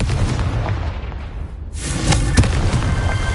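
A Confringo fire spell goes off in the Hogwarts Legacy game on PS5, a loud booming blast after a brief lull, with crackling, firework-like bursts rolling on steadily afterward.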